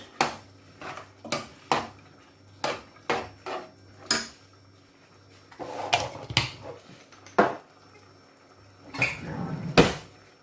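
A spoon knocks and scrapes in a bowl while nutmeg is mixed into Jamaican coconut drops, making a run of sharp, separate taps with brief softer stirring scrapes between them, close and fairly clear, with no voices.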